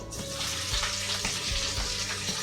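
Peppers and onions land in a hot skillet and sizzle, a close, hissy crackle of frying that carries on steadily with a few sharper pops and spits throughout.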